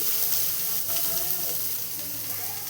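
Ragi flakes for upma roast in a hot pan with a steady, close sizzle and crackle, and a soft scrape of stirring underneath, continuous and even throughout.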